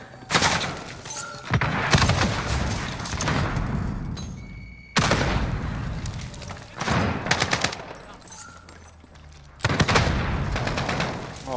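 Automated sentry gun fire in a video game erupts in repeated rapid bursts separated by short pauses, loud and dense, with voices faintly mixed in.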